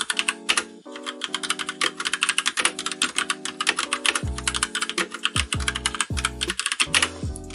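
Rapid, steady typing on a budget mechanical keyboard with red switches, dense close-up keystroke clatter running throughout, with a tonal musical backdrop underneath.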